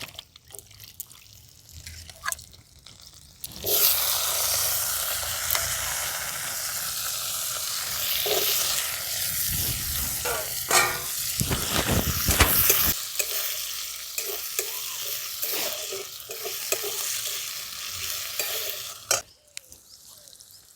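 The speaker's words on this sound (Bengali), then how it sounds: "এই আদা আর জিরেটা একটু নাড়াচাড়া করে নিয়ে দিয়ে দিচ্ছি আমি এখানে কেটে রাখা ছোটো ছোটো করে কেটে রাখা আলু" Diced potatoes dropped into oil with grated ginger and cumin, a quiet start, then a sudden loud, sustained frying hiss with bubbling and stirring scrapes that fades near the end, no talk.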